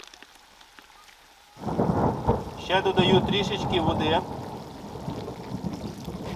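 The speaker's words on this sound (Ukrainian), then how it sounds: "У нас зіпсувалася погода, насувається гроза." Rain pours steadily with a low rumble of thunder beneath it, while a person speaks briefly over the storm.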